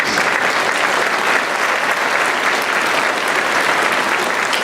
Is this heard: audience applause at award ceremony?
yes